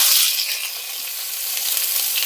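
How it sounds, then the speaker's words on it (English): Garlic sizzles and crackles steadily in a hot frying pan, a loud, close, continuous hiss with no talking. "Some garlic. Put in the bottom of this, put inside this frying pan."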